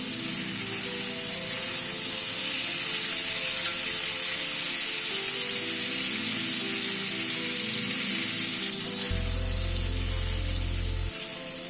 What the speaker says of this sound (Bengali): নুন আর হলুদ দিয়ে আলু পটলটাকে আগে ভেজে নেবো